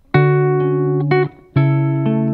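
Electric guitar chords from a song ring out clearly, with a few strummed chords sustaining in turn and a brief muted gap between them, played alone without talk.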